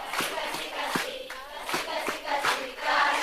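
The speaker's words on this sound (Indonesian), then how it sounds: "Tepuk tangan." Church congregation clapping hands during a worship service, with several sharp claps standing out at an uneven rhythm over a steady murmur of the room.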